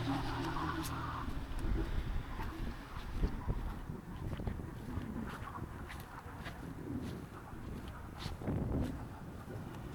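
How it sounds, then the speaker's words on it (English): Faint wind in Maroochydore buffets the microphone in irregular low gusts and rumbles, with soft outdoor background sounds and no talking. "It's very windy today."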